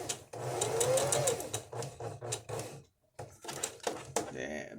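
A sewing machine stitches and then back stitches in rapid mechanical bursts, with a short pause partway through, while a person talks over the machine.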